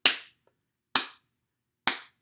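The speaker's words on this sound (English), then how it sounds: "Can you clap with me?" Three sharp, evenly spaced claps ring out close and clear with silence between, a children's group clapping along to a hello song.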